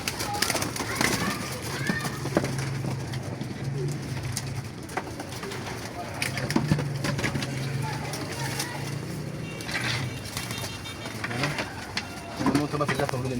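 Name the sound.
pigeons cooing and landing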